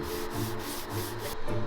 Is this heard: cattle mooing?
no